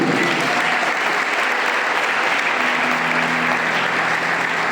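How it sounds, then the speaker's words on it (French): An audience at an honorary award ceremony applauds loudly for Gabon, a thick, sustained wall of clapping that stays steady throughout, with a faint voice under it. "Clap for yourself."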